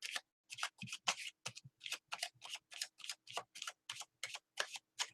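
Tarot cards are shuffled quietly and close by, in a steady run of about a dozen short, crisp riffling bursts with brief silences between them.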